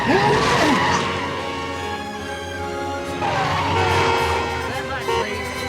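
A car in the 1982 film E.T. the Extra-Terrestrial, with a boy at the wheel of his mom's car, skids with loud tire squeals over a running engine, in two bursts with voices mixed in.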